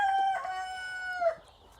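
A rooster crows nearby, one long drawn-out cock-a-doodle-doo with a strained rise near the end, loud and clear in an outdoor farmyard with no talking.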